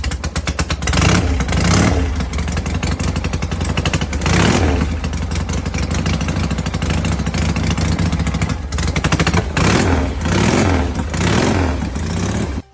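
A vintage Harley-Davidson Sportster motorcycle engine revs loudly and continuously, its throttle blipped in repeated surges and dips over a steady, rumbling idle, with no talk.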